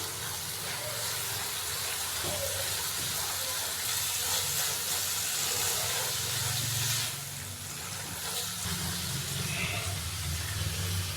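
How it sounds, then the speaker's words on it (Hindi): Chana dal being stirred and fried with spices in a restaurant-style pan, giving a steady close sizzle and hiss that runs throughout with slight swells, no talk over it. "दाल चना डालने के बाद मैंने अच्छे से इसको मिक्स कर लिया है।"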